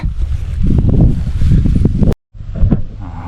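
Strong outdoor wind buffets the microphone during bee hunting, a loud, steady rumbling roar that cuts out briefly near the end and then resumes.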